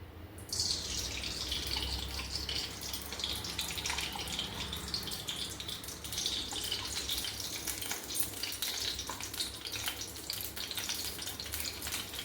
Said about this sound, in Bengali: কড়াই গরম হয়ে গেছে, এখানে 4 চামচ আমি ঘি দিয়ে দিচ্ছি।